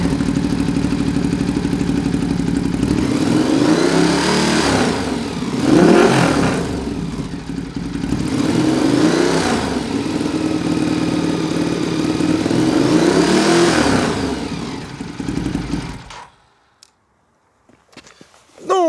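Ducati Diavel fitted with a Remus exhaust, baffle removed, revving hard in repeated loud bursts close by, each rising and falling, before cutting to near silence at the end.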